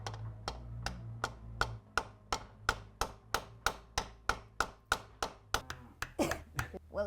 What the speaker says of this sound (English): I think I'm just going to go with the hammer method now.